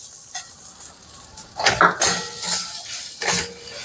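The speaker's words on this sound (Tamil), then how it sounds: "நான் மிளகா வத்தல் மட்டும் கொஞ்சம் எண்ணெயை போட்டு அவுத்து விட்டுருவோம்" Dried red chillies being fried in a little oil, a close, soft sizzle with scraping and stirring scuffs and a few clinks of a spoon against the pan, no voices.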